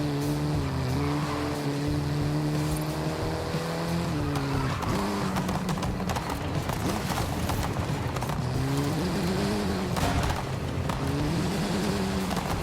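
Racing-game car engine in NFS Heat or Forza Horizon, droning steadily as the car drifts, with pitch sweeping and dipping through the slide over continuous tire and road noise, loud and close throughout.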